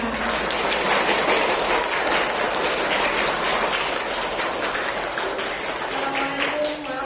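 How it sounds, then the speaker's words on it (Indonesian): Audience clapping at a school farewell ceremony for grade six pupils, a dense, rain-like patter of many hands holding steady for several seconds with a faint voice underneath. "Tepuk tangan mana?"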